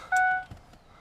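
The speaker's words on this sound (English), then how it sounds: "sorry for the beeping, one of the issues that it has is the airbag light" Warning chime from a Ford Explorer with a faulty airbag light: a single clear electronic beep tone, fairly loud and close, lasting about a quarter second and then fading out.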